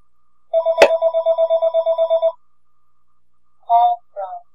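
Telephone ringing in a room during a home video-game session: a fast burst of bell-like trilling lasts about two seconds, followed by a pause and two shorter rings, loud and close with no talk over it.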